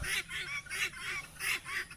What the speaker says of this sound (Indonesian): Ini ayam mutiara berisiknya ampun ya, berisik banget